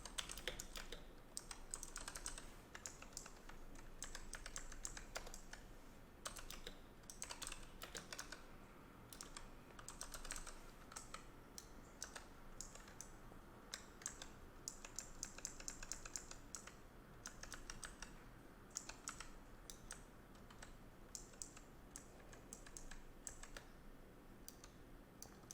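Steady typing on a computer keyboard during a live coding and debugging session, rapid quiet clicks and keystroke bursts continuing for about half a minute with no talk.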